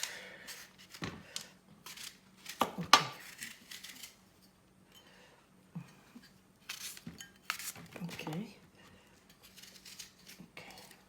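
Knife cutting fruit and vegetables, including a green apple, on a kitchen board: a few sharp clicks and taps in irregular bursts with quiet gaps, close by.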